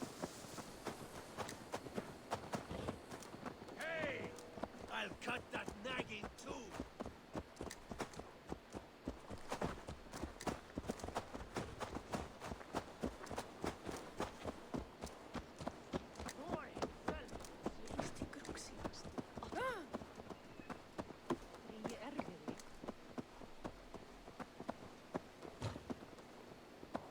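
Steady clip-clop of horse hooves while riding in Assassin's Creed Valhalla, a regular rhythm running throughout under game speech.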